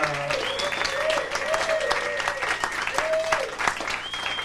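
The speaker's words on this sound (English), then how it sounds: "From the sound of the applause, a lot of you were hoping to suck up to Andrew before he goes back to work at the dugout." An audience applauds, a dense patter of clapping from many hands that stays steady throughout, with whoops and cheers rising above it.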